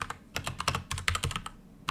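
Quick, uneven clatter of typing on a computer keyboard, close and fairly loud, with short bursts of keystrokes separated by brief pauses and no talking.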